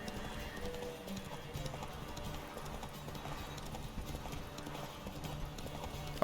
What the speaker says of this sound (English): Oh, this horse has shit stamina.